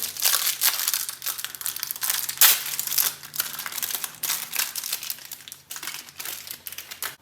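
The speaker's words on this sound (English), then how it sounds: "You'll need to open up this packet" A plastic packet holding wiper blade clips for Michelin Guardian wiper blades is pulled open, giving loud, continuous close-up crinkling and crackling of thin plastic with sharp snaps, heard alone without talk.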